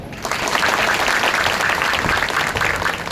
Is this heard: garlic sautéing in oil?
no